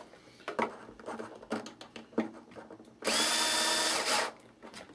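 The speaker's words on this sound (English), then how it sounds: "Be careful not to over tighten these with a drill." A power drill runs continuously for about a second as it drives blind nuts into the wooden spar of a Big Stick 40 model airplane, loud and close, preceded by scattered clicks and taps of handling.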